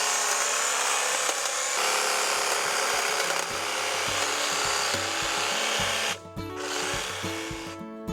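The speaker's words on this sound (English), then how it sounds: "We're going to start off with Cramer's HT71, one of many offerings from Cramer in their battery handheld hedge cutter range" A Cramer HT71 82-volt battery hedge trimmer cuts through hawthorn and sycamore with a continuous close buzzing whir, the blades chattering through twigs, then a short dip in the motor note before it picks up again.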